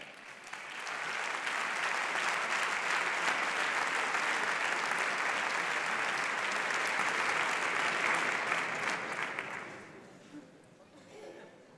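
An audience applauds at the Premios Navarra Televisión awards gala in Pamplona, a loud, sustained wash of clapping for about ten seconds before it tapers off into quieter room sound.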